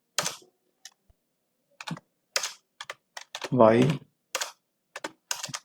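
Clicky computer keyboard keystrokes come in short scattered clusters near the microphone, with someone speaking briefly between them.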